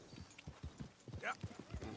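A horse's hooves clip-clop in a steady walking rhythm in the video game Red Dead Redemption 2. The footfalls are soft and regular, with a brief whinny-like tone partway through and a voice speaking faintly underneath.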